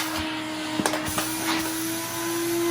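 An Electrolux Super J vacuum cleaner running during a suction test, a steady whining motor hum with a few brief knocks and bumps as the nozzle is handled, close and fairly loud.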